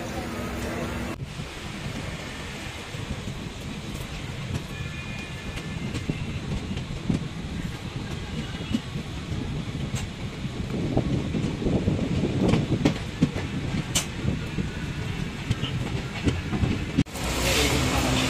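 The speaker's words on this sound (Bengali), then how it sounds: "এই যে জাস্ট আলুয়াবাড়ি রোড থেকে ট্রেনটা ছেড়ে দিল" The Kanchankanya Express, an Indian passenger train leaving Aluabari Road station, is heard from on board as a continuous rumble of the moving coaches, slowly building with faint rattles and clanks.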